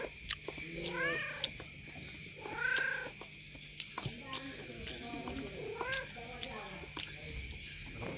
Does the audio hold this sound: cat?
yes